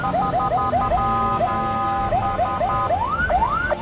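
Ambulance siren wailing in traffic, a rapid rising-and-falling yelp that repeats in quick cycles and then stretches into longer sweeps, loud and close over road noise.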